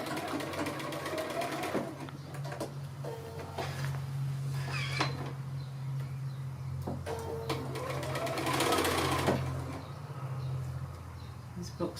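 A sewing machine stitches quilt block pieces together for a mini pear sampler, its steady motor hum and needle clatter running in bursts across the clip with brief pauses, close and fairly loud, with faint handling noises between runs.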